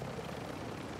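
Steady, dense rotor and engine roar from a helicopter in a video game, a continuous close rumble with no speech.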